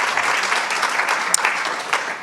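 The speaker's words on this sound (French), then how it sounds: "merci d'applaudir Pascal Sciarini et Laura Budon-Cassis" An audience at a panel discussion on democracy, media and polarization claps for two guest speakers, a dense, loud burst of applause filling the whole short stretch with a few sharper individual claps standing out.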